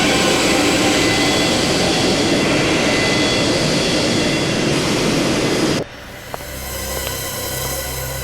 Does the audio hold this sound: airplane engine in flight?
yes